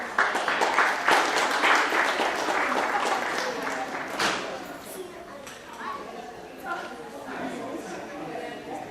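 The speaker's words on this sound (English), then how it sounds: "Let's give both classes another round of applause." Audience applause for children's classes at a Sunday school summer graduation, clapping loudest at first and then tapering off into softer scattered claps and murmuring chatter in a hall.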